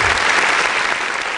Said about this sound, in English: Please a round of applause as he comes forward.